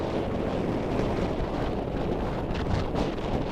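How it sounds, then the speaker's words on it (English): Strong wind buffets a sailboat heading into a marina in late October, a steady, loud, rushing roar with faint water wash beneath and no voices. "the wind picks up a lot as you get into the marina"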